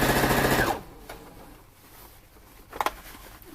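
A sewing machine stitches the elastic casing on a bodice, a fast steady whir running for about half a second and then stopping, followed by quiet room sound and a couple of faint clicks.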